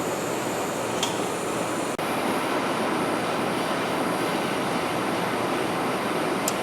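A small propane torch burns with a steady, broad hissing roar, close and constant, used to heat a stuck fill plug on a big bandsaw, with a single sharp tick partway through.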